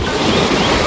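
River water rushing beside a forest edge and green rice fields in a village in South Bandung, West Java, as a loud, steady roar with wind-like texture and no talking.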